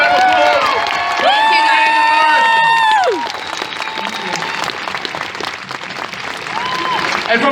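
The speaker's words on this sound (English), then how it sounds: "So Christchurch, please, give a round of applause." A convention crowd in Christchurch bursts into loud applause and cheering, with whoops and shouts over the clapping, while a voice carries over the start before the ovation continues on its own.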